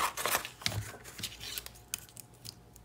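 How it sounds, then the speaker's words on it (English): Scissors cutting white cardstock for a Christmas coffee gift card holder craft, a close series of crisp snipping and crunching cuts. "So I'm just gonna cut this."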